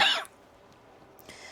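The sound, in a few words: cough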